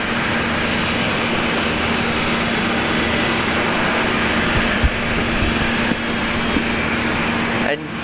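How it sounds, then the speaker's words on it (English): A Transavia and KLM Boeing 737-7K2 jet airliner at Brisbane Airport pours out a loud, constant engine roar from nearby, with a faint voice underneath and a few small knocks. "This is one of our 737-7K2s from Transavia and KLM."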